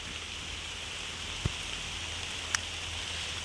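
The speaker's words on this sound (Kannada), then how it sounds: "ಮಳೆ ನಿಲ್ಲೋ ಥರ ಕಾಣ್ತಿಲ್ಲ." Rain falls steadily and evenly around the listener outdoors, making a constant wash of patter with a couple of sharper drops landing close by, and nobody speaks.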